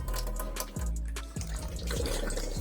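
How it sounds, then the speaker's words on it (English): Water runs steadily from a faucet above a sink in a home water-filter setup, a loud continuous broadband rush with slight gurgling surges and low rumbling pipe resonance, no talking. "Now we open a faucet above the sink so that the filter can be drained more easily."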